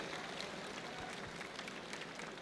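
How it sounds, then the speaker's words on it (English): An audience at a convocation ceremony applauds with a steady patter of clapping hands. The sound is fairly soft and a little distant, keeping an even level with no talk over it. "please applaud these people"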